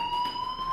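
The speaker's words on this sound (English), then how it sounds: "do you hear that fire alarm?" A fire alarm rings steadily in the Life is Strange video game, a continuous electronic tone held without break for under a second, with no talk over it.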